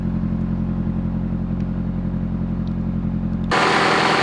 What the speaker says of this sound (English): And here is the exhaust.